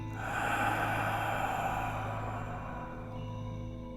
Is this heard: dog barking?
no